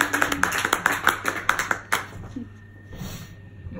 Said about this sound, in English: Clap if you want.